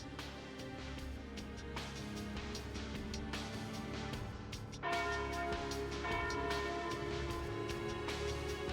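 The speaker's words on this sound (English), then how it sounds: "there's the noon bell" The noon bell in the video game Trails into Daybreak rings out in a string of sharp metallic strikes with long, ringing overtones. The peal grows fuller and louder partway through, with no talk over it.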